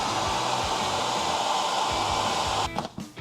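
A hair dryer blows hot air onto the glued insole deep inside a Vans shoe: a loud, steady, close whooshing roar that cuts out and sputters briefly near the end.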